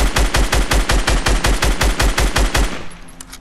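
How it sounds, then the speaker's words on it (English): Fortnite gunfire at a tree: a rapid automatic burst of about fifteen evenly spaced, loud, close shots, ending with a short fading tail. "Well, I'ma shoot the tree."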